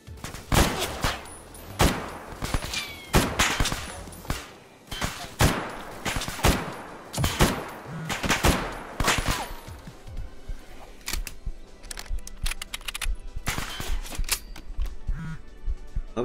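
SKS rifle fire in the video game Stalker Anomaly rings out as loud, sharp shots. They come singly and in rapid clusters throughout, with brief pauses and scattered clatter between them.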